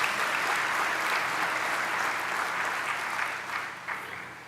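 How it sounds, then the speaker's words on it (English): Graduates at an autumn university graduation ceremony in Gqeberha give sustained indoor applause, a broad, even patter of many hands that holds steady, then gradually thins out toward the end. "May the graduates please give a round of applause to those they have invited."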